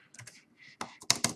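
Computer keyboard keys clicked in short irregular bursts while writing C++ code, close and fairly quiet, with brief gaps between taps.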